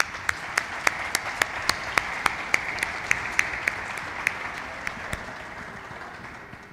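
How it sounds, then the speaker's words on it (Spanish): Sustained applause from a crowd, with distinct sharp claps standing out over a dense wash of clapping that gradually tapers off. "De nuevo, por favor, un fuerte aplauso."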